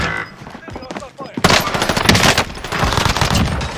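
A PPSh submachine gun fires in a first-person shooter video game in long, rapid full-auto bursts. The gunfire is loud and continuous and masks faint talk from the players.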